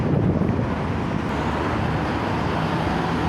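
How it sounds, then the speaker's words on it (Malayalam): Strong, gusty wind buffeting the microphone while someone walks outdoors, a continuous loud roar with a low rumble of passing traffic behind it. "നല്ല അതിശക്തമായ കാറ്റുണ്ട്"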